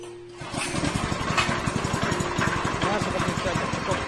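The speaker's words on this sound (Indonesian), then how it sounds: "langsung bisa dihidupkan mesin." Engine of a floating fish pellet machine starts up and runs with a steady, close, rhythmic mechanical chugging throughout.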